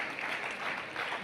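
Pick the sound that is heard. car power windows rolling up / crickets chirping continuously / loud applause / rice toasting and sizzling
loud applause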